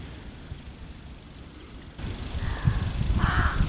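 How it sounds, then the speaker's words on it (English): Crows cawing outdoors in a garden in November, a few harsh calls in the latter half over a low background rumble, moderately near. "You see the crows are flying home."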